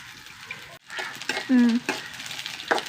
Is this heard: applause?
no